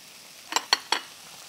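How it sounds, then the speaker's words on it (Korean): Green onion, garlic and soy sauce stir-fry in a pan as three quick scraping strokes of a spatula sound close and crisp over a faint sizzle. "볶아주시고"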